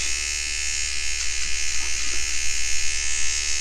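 A Microtouch Solo electric razor buzzes steadily and close while shaving facial hair, its hum rippling faintly as it moves over the skin, no talk.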